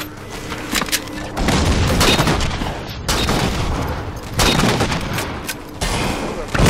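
Gunfire and sniper shots in the video game Halo 4, with dense bursts of loud, rattling fire and booming reports that come in waves throughout, broken by short gaps.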